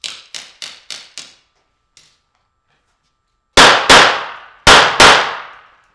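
Pistol shots ring off steel targets at a backup-gun shooting match: five quick sharp cracks in a row, a faint tap, then a pause and four loud ringing clangs in two pairs, each with a bright metallic decay.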